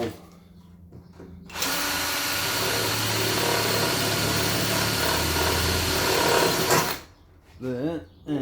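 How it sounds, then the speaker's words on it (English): A power drill whirs steadily for several seconds, boring a hole in a Land Rover Series seatbox, with brief voices before and after the drilling. "drill a hole."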